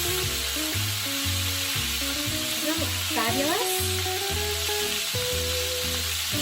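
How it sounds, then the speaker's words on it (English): Lamb with lemon sizzling in a frying pan, a steady hiss running under music, while someone speaks briefly over it. "Look at that sizzling goodness."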